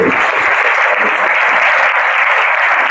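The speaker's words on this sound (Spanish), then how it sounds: "Denle un aplauso al Rey bendito" A church congregation applauding in praise during a sermon, a thick, continuous roar of many hands clapping at full volume, steady and unbroken throughout.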